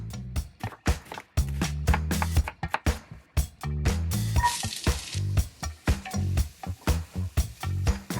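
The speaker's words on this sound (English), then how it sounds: "Saute one medium onion in some olive oil, along with some garlic, till it all softens a little bit." Onion and garlic saute in olive oil, a pan sizzle heard in short rhythmic bursts with frequent gaps, as if stirred or tossed, fairly close and moderately loud.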